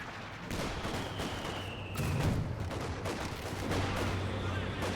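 Smoke barrage artillery fire in the Company of Heroes real-time strategy game, heard as a dense continuous rumble of muffled booms and crackling shots, with a heavier thump about halfway through and a steady low roar throughout.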